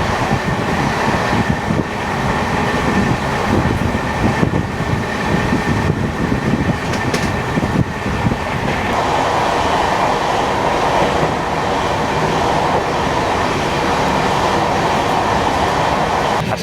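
13161 Tebhaga Express LHB train running slowly between Kolkata and Balurghat, heard as a loud, continuous rolling rumble of wheels on track with a steady roar and occasional light clatter throughout.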